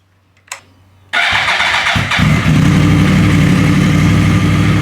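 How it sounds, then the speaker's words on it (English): A Yamaha R1 sport motorcycle, fresh from a coolant swap to Engine Ice, cranks briefly after a faint click and fires up loud and close, settling straight into a steady, throbbing idle. "we're gonna start the motorcycle, and the coolant level will suck down as it replaces air with coolant"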